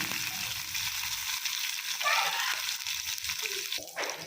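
Green chilies frying in a pan for a mint and green pea rice dish, a soft, steady sizzle at low volume, with a brief clatter near the end.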